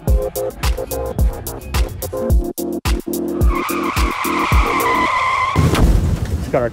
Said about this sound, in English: Got our car stuck in this fucking dirt.